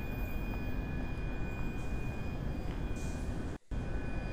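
Steady low rumble of a train running on the Glasgow route in Train Sim World, a continuous broadband drone with faint tonal hums above it, interrupted by one brief dropout near the end.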